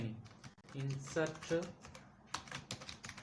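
Soft clicking of a computer keyboard as someone types in short bursts, close and quiet, mixed with a voice speaking over it.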